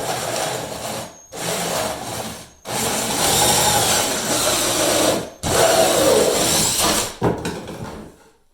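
A cordless power tool cuts a hole through the plastic deck of a Lifetime Teton Angler kayak, a loud continuous rasping whine in several long bursts separated by brief pauses.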